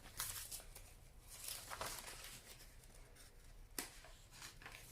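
Scissors cut through a sheet of grocery-store paper to halve it, giving a few close, crisp snips and rustles of handled paper, with no talk.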